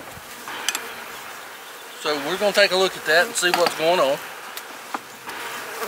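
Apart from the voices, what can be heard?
honeybee colony in a hive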